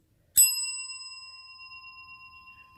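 A single bright ding of a bell, struck once and left to ring out, its clear tone slowly fading into silence.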